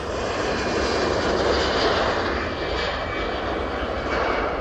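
Jet airliner departing Manchester Airport, a steady broadband engine roar holding loud and continuous throughout with no talk.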